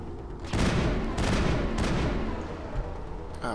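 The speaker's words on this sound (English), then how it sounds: "Whoa, who is shooting me?" Heavy gunfire pours toward the player in the Mass Effect video game on Eden Prime, a loud sustained barrage of shots and blasts that fills the short stretch after a quiet start.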